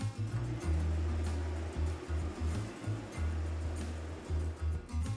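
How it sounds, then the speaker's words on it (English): A waterfall in southeastern Washington plunges 198 feet into a basalt canyon, giving a steady, rushing roar of falling water with a pulsing low rumble underneath and no voices. "this waterfall plunges 198 feet into a dramatic basalt canyon carved by Ice Age floods"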